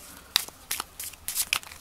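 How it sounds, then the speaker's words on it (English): Mermaid tarot deck cards shuffled by hand, a series of about five quick papery riffling bursts separated by short pauses, close and fairly soft, with no talking. "let me show you guys how I shuffle"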